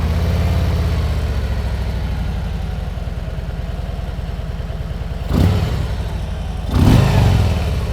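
Harley-Davidson Road Glide Special V-twin at a loud, close idle with a lumpy, pulsing beat, followed by two quick throttle blips that swell the deep exhaust note.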